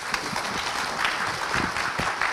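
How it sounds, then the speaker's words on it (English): Applause for the panelists at the close of a panel session on privacy-enhancing technologies, a dense steady wash of many hands clapping across the room, moderately loud and sustained for a couple of seconds. "So a round of applause for our panelists,"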